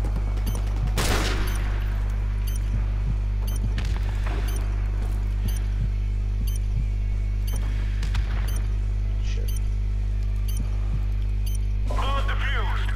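Grenade launcher fire in Call of Duty: Modern Warfare Remastered, with a sharp blast near the start and scattered gunfire bursts over a constant low droning hum from the match.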